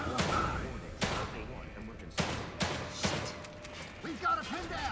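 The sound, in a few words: gunfire in The Evil Within video game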